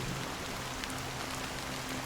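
Rain falls in a steady, dense hiss of droplets that stays even and close for the whole short stretch, with no voices.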